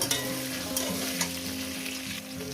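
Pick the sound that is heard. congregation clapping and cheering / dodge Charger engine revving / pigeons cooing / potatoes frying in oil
potatoes frying in oil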